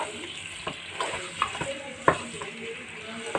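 About a kilogram of bone-in chicken sizzles and fries steadily in hot oil, close and continuous, with scattered scrapes and clinks of a spoon stirring the pan.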